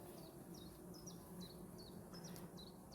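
Honeybees crowd the frames and the wooden bars beneath them in a hive at an isolated forest apiary, giving a steady low hum. Birds chirp repeatedly in the background.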